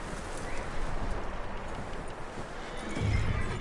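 Horse hooves clip-clop steadily in Red Dead Redemption 2, close and continuous under a broad ambient wash, with a louder thud near the end; a whinny is not clearly distinct.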